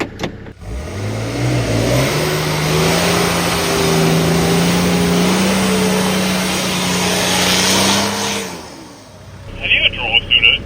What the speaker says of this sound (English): My clutch just slipped, I think.